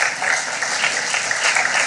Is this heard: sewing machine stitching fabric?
no